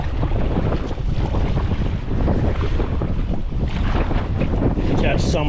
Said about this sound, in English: The wind is right now just against me, right against me, which means it's a lot tougher to paddle.